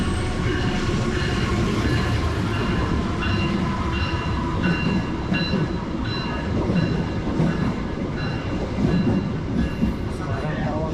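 Train at Bekasi station rumbling steadily and loudly throughout, with rhythmic clickety-clack of wheels over rail joints and faint squeals on the platform.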